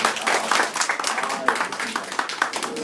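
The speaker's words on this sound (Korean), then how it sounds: "박수" A workshop audience of office workers claps after a team presentation, a dense patter of hands running throughout with voices talking over it.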